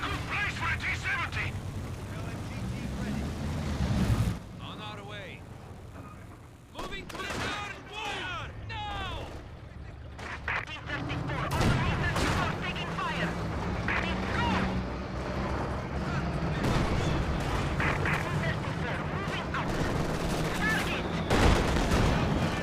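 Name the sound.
machine gun fire in Company of Heroes 2 video game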